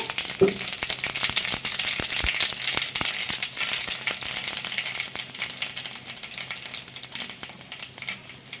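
Tempering seeds splutter in hot oil in a kadai as the base for a tamarind pulusu, giving dense, continuous sizzling crackle with many sharp pops throughout, close and fairly loud.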